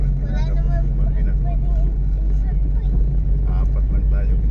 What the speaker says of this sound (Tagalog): Apat lang tayo, kinakapos yung makina.